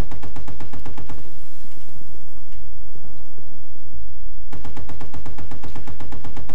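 Loud rapid automatic gunfire from the video game Battlefield 1943 rattles in sustained bursts at the start and end, separated by a few seconds of rumbling battle noise.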